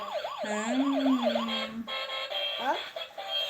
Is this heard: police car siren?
yes